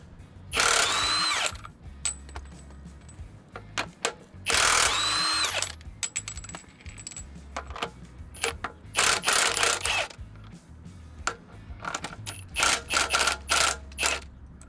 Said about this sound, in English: we're going to take the two nuts off on this side and the two on the other side of the segment